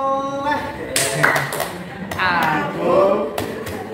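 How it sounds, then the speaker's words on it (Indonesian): Children clapping the rhythmic tepuk anak soleh chant in an Islamic religious lesson, bursts of hand claps in patterned groups mixed with young voices singing and talking close by. "Kalau tepuk anak soleh"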